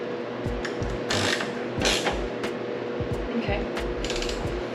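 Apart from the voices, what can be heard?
ratchet tightening a bolt on a Nissan S15 Silvia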